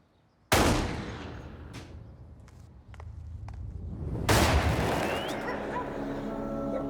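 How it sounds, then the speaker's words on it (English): Two loud, sharp bangs roughly four seconds apart, each followed by a long rumbling echo, with faint clicks in between. "he hears 2 gunshots, and he said there's about a 4-second delay, and then the 3rd shot."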